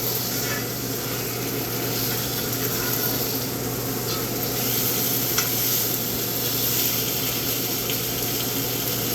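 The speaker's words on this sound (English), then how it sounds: "Move that steak around a little." A steak sizzles steadily in a hot pan while it is shifted around, a dense continuous frying hiss with faint scraping, close and even throughout with no talking.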